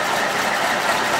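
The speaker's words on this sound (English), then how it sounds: "There we can see the engine has a constant rock." Farm truck engine idling roughly with a constant rock, suspected piston trouble; a steady, close mechanical rumble with an uneven low-end throb across the short stretch.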